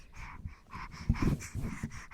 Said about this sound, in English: You hear some heavy breathing.